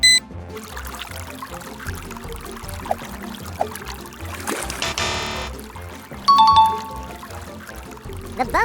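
An upgraded LEGO Technic water pump sends a stronger flow of water in a continuous pouring stream, joined by a short chiming ding and a brief louder surge of splashing partway through.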